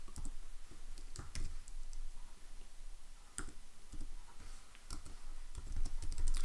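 Short comment being typed on a computer keyboard: bursts of quick, crisp key clicks with pauses between, close and fairly quiet, no voices.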